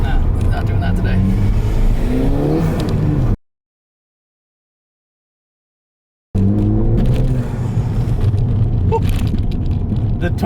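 A tuned turbocharged Ford Fiesta ST accelerates hard with a loud, close engine roar rising in pitch, then goes silent for about three seconds before the roar resumes and climbs again.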